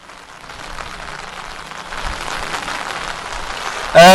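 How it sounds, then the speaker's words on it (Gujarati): Heavy monsoon rain pours steadily on a flooded street in the Bopal Ghuma area of Ahmedabad, a dense, continuous hiss that swells slightly toward the end, with a brief louder burst at the very close. "હજી પણ ધોધમાર વરસાદ ચાલુ છે?"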